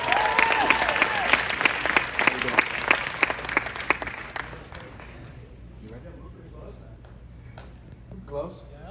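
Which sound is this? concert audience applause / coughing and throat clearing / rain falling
concert audience applause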